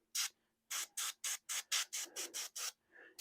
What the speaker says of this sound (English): I'm using some of the overspray from the airbrush as shadow